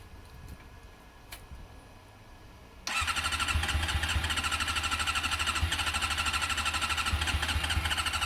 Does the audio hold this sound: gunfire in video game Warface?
no